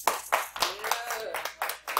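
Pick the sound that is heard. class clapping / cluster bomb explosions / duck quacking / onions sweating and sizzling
class clapping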